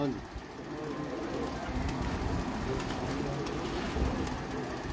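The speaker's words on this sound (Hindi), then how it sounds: "मुलायम परेल कबूतर।" Parel pigeons coo softly at a loft in Fateh Pur amid noisy background chatter and hum, the low throaty calls blending into a steady din.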